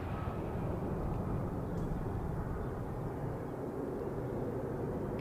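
An air tanker, a large jet aircraft, races down the runway at Manchester Airport, heard as a steady, loud, broadband engine roar with a deep rumble that holds evenly throughout.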